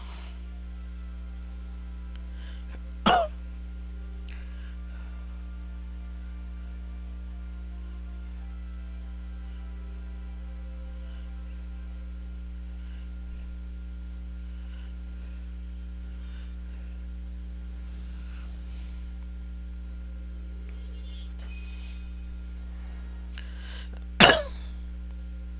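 A person coughs or clears their throat twice, two short sharp bursts far apart, over a constant low electrical hum in an otherwise quiet room.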